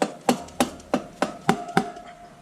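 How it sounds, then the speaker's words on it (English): Six sharp metallic taps in a steady rhythm, close and fairly quiet, knock the rear wheel axle of a BMW F800GS motorcycle into place. No one speaks. "tap the axle into place"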